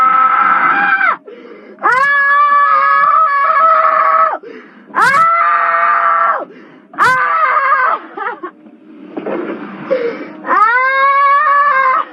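A woman screams and wails in long, loud, drawn-out cries, about five separate bursts with brief gaps between them, harsh and strained, close to the listener.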